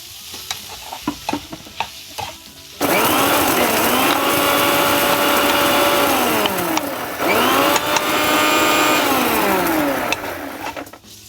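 A mixer grinder powdering dry-roasted spices for kadai paneer, starting after a few knocks and clatters, then a loud steady whirring motor that briefly dips and spins back up before settling off.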